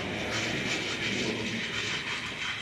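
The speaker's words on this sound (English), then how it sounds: "to try over the points and see if I can push a truck or two into the siding" A model HO train shunts trucks over the points into a siding, giving a steady close whirring motor hum with faint rail clicks throughout.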